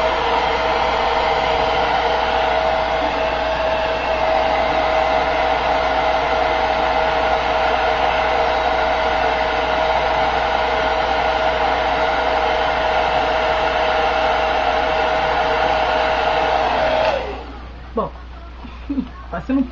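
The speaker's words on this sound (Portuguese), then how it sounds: "E eu seco assim, ó, com ar quente." A hair dryer blows hot air in a loud, steady, whining roar with a constant hum for about seventeen seconds, then cuts off, leaving faint handling noises.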